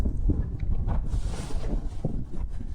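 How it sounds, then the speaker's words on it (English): Strong gusty wind buffeting the microphone on a Lake District mountain ridge near Grisedale Pike, a loud, continuous rough roar with uneven surges throughout. "Hopefully you can hear me over the wind."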